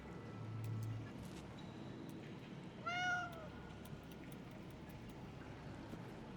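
A single short cat meow rings out in an Indiana Jones video game, set in a quiet underground area, heard once over low steady background hiss.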